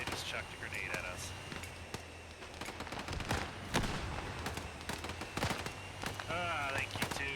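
Grenade blast and scattered gunfire in the military shooter Arma 3, loud sharp bangs spread across the clip over continuous background game noise, with a player's voice talking over the fighting.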